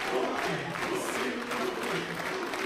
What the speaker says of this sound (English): Oh, people cheering for Huni so far.